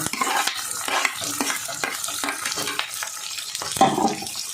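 Onion petals and chilies stir-fried over a high flame for chili prawn: a continuous close sizzle with frequent rhythmic scrapes and knocks of a spatula tossing the pieces in the pan.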